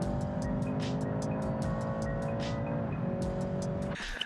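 A BMW G20 engine drones steadily under full acceleration with a loud, sustained hum, partly played through the cabin speakers, its pitch easing slightly near the end, heard from inside the cabin with no talking.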